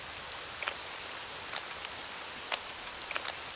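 Rain falls in a soft, steady hiss, with a few slightly louder drops scattered through it. Faint and even throughout, with no voices.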